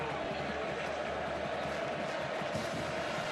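A Kyle Field football crowd of 106,815 at a Texas A&M versus Alabama game in 2021 roars as a broad, steady wash of distant cheering, heard under a commentator's talk.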